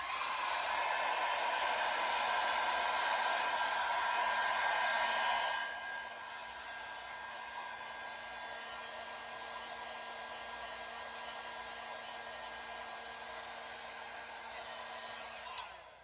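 A hair dryer on a low setting blows steadily at a painted chess piece. It runs loud at first, drops to a quieter, softer hum about midway and keeps going without talk.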